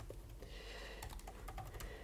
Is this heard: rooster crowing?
no